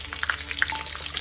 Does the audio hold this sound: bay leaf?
yes